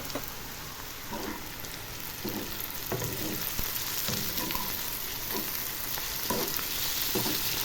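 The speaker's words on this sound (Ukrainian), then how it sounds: "Ще смажиться в мене цибуля." Steady sizzling of onions frying in a pan, a continuous crackle with occasional soft stirring sounds.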